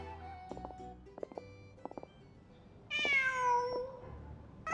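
A cat meows in a video game, a clear, drawn-out, rising-and-falling call heard alone after a few soft, short chirping sounds, fairly close.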